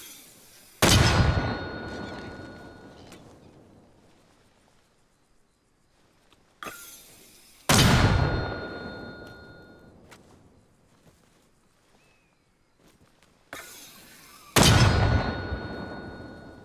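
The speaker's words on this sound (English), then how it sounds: "So I'm just going to fire mortars as fast as possible here." Mortar rounds in a video game fire with three sharp, loud thumps about seven seconds apart, each followed by a long decaying boom and faint distant impacts, no talk.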